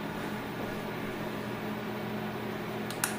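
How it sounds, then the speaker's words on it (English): A countertop grain mill grinds wheat berries into flour with a steady, loud whirring motor drone that holds constant throughout, then a brief sharp click right at the end. "I'm going to take my wheat berries and I'm going to make them into flour."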